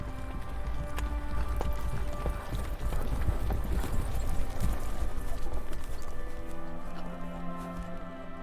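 Horses trotting on a long journey, steady rhythmic clip-clop of hooves with a faint jingling of tack, fairly close and continuous, with no speech over it.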